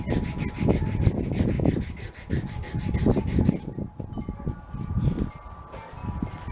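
Rhythmic scraping of sandpaper rubbing calcium deposits off an abalone shell, in quick repeated strokes that are close and moderately loud, pausing briefly partway through before resuming.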